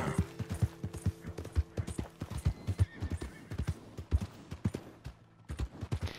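Horse hooves clip-clop in Red Dead Redemption 2, a steady, fairly quick rhythm of close, distinct hoofbeats carrying on throughout at moderate volume, with little else over them.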